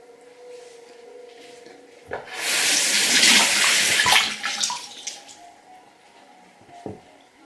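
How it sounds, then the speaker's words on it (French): Lukewarm water runs from a sink tap onto a face sponge being rinsed, a loud broadband splash and gush for about two seconds, then softer dripping, squishing and a few handling knocks close by. "vous prenez votre éponge et vous venez rincer. À l'eau. Tiède plutôt"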